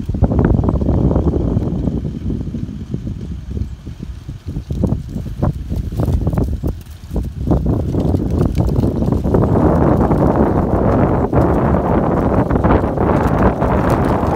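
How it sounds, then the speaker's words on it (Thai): Strong wind buffets the microphone outdoors near a mountain, a loud, continuous roar that surges and dips with gusts throughout. "ลมแรง"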